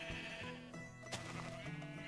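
Minecraft sheep bleat in the blocky video game, a couple of short nasal bleats over a faint steady background, close and moderately loud with no talking.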